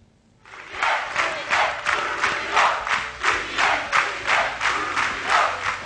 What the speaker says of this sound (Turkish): Bu tezahürat Sabri Sarıoğlu için.